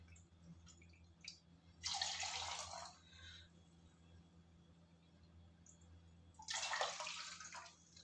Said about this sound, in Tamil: 3 கப் வெல்லம் தண்ணி விட்டுக்கலாம்.